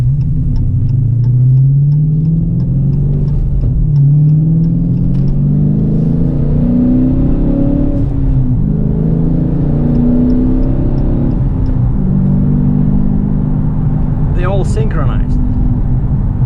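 A 2018 Dodge Challenger with the 6.4 L engine and six-speed Tremec manual, heard from inside while driving: a loud, continuous engine rumble rises and falls through revs and gear changes, with someone talking over it.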